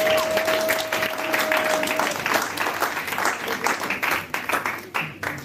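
A church congregation claps loudly and steadily in praise of the Lord, with voices mixed into the dense applause and a brief held tone near the start.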